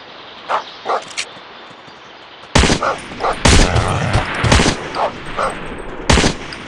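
A hunting dog in the Deer Hunter 2018 mobile game barks in short bursts amid loud rapid gunfire, the barks close and sharp, broken up by heavy shots that dominate the second half.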